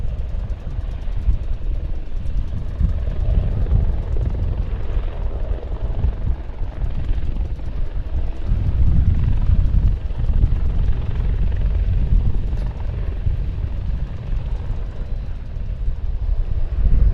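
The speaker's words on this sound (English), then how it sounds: "all four helicopters, this eclectic mix of military and civilian helicopters, all of different types, lines up at low level in front of us" Four mixed military and civilian helicopters of different types line up at low level in front of the crowd at the Leszno airshow, giving a steady loud rotor and engine rumble with wind buffeting the microphone.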